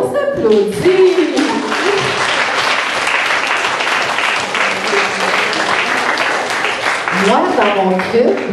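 A group in a laughter yoga class bursts into steady, loud applause lasting several seconds, with voices and laughter mixed in at the start and end.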